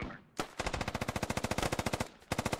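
Rapid automatic machine gun fire in the military shooter game Squad, two steady bursts of evenly spaced shots, loud and close, with a brief gap between them.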